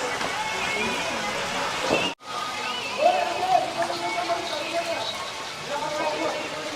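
The Gaumukh natural spring stream falls continuously at Chittorgarh Fort, a steady splashing rush of water heard beneath someone speaking nearby.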